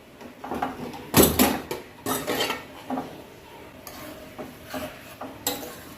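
A pressure cooker with fenugreek porridge is opened and its metal pot handled in a home kitchen, giving a run of close, sharp metallic clanks and clatters with a loud burst near the start and quieter knocks after.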